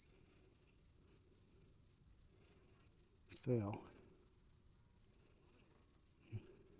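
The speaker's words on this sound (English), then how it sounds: "Hear the crickets?" Crickets chirp in a steady, high pulsing trill at a lakeside with sailboats and paddle boards, a brief splash or thump midway and a short spoken word under the insects.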